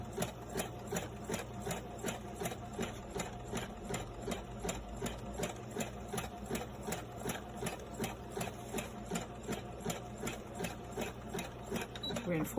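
Domestic sewing machine running steadily, stitching a washable fabric mask over a pipe-cleaner nose wire, a close, even rapid mechanical rhythm that continues without pause.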